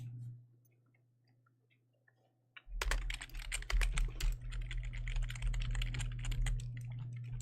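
Fingers type steadily on a Harma computer keyboard: after a quiet stretch with a faint hum, a dense, close run of rapid clacking keystrokes begins and continues to the end.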